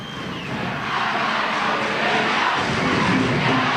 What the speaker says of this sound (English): And a real enthusiastic crowd.